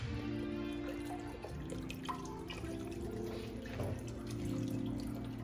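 Chicken broth pours into a roux in a pot on medium heat, a steady close liquid stream with bubbling and dripping for about five seconds, with no talking.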